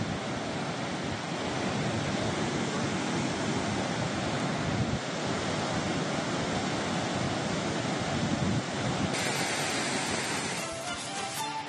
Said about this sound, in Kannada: ಎಲ್ಲಾ ಗೇಟ್ಗಳನ್ನ ಓಪನ್ ಮಾಡಿ ನೀರನ್ನ ಹರಿಬಿಡಲಾಗ್ತಾ ಇದೆ